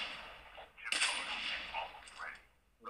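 Sniper rifle shots in a competitive shooter video game, with a loud sharp report followed by a long ringing tail and a second burst at the end, under a faint background voice.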